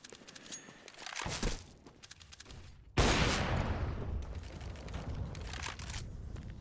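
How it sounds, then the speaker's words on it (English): Desert Eagle pistol fire in CS:GO on the Dust2 map during an ESL One esports match, heard as a few sharp shots with a loud burst near the three-second mark amid busy game noise and no talk. "just going to be firing a couple of deagle shots at tunnels"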